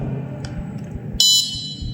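An ESP32 prepaid energy meter's buzzer gives a single sharp, loud electronic beep partway through, standing alone above a low steady hum from the circuit board setup.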